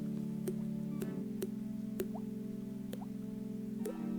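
A voice makes repeated mouth-made 'doink' drip imitations, five or six short plopping pops spaced about half a second apart over a steady low hum, close and fairly loud.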